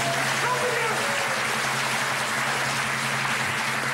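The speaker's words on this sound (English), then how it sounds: "Go give us a round of applause." Broad, steady applause from a studio audience on the 1991 Bullseye Christmas special darts game show, a continuous even wash of clapping that holds at constant loudness throughout, with a voice faintly underneath.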